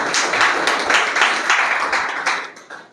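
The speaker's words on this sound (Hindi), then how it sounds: "एक बार फिर से सर के लिए जोरदार तालियां बजाइए आप सब लोग" Audience at a Republic Day function in India applauding a guest, sustained clapping in uneven bursts that swells and thins over a few seconds.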